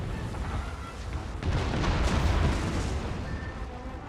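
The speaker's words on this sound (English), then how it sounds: "There you go, the rockets again." Rocket artillery firing on a Napoleonic battlefield in Napoleon Total War, a rumbling volley of booms swelling in the middle and fading out, loud and low over a steady background of battle noise.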